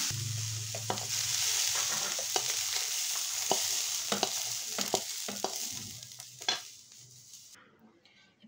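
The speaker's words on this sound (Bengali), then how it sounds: "এবার দিয়ে দিচ্ছি এর মধ্যে মটরশুঁটি দিয়ে সবজিটা একটু হালকা ভেজে নেব।" Winter vegetables with peas fry in a pan while being stirred, a continuous sizzle punctuated by scraping strokes of the spoon that fades toward the end.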